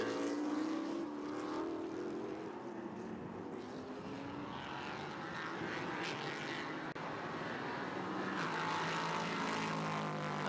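A Le Mans prototype race car passes during an Asia Le Mans Sprint Cup race, its engine note rising and falling in pitch as it sweeps by with a broad, roaring whoosh over constant background noise.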